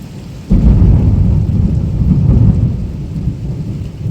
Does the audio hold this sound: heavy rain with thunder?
yes